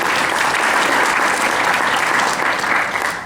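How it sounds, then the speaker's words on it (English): Audience applause for Jennifer at a career fair presentation, a dense, steady wash of clapping from a full room that holds evenly and starts to fade at the very end, with no talking over it. "Let's give Jennifer a round of applause."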